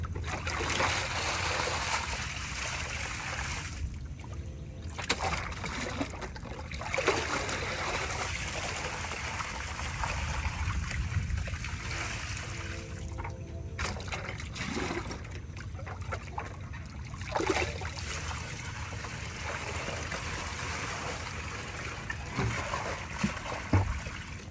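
Water from a fish tank pours and trickles into a garden box in a steady stream, with gurgles and splashes that come and go and a few brief knocks.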